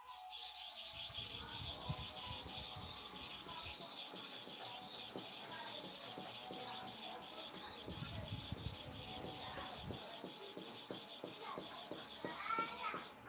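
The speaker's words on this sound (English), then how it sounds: "Let us go for sharpening now." A knife blade is drawn repeatedly across a sharpening stone, making a steady run of close, raspy scraping strokes that continue without pause and without speech.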